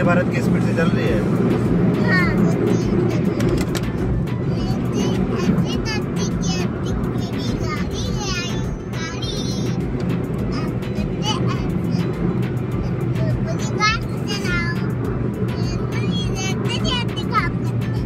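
A car driving fast on the Samruddhi Mahamarg expressway in Maharashtra, a continuous loud road and engine rumble with wind noise, while people talk over it throughout.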